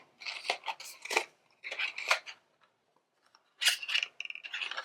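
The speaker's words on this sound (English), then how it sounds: "And then let's cut this one out too." Scissors snipping through stamped paper for a balloon bouquet card, close and crisp, in three quick clusters of cuts separated by short pauses.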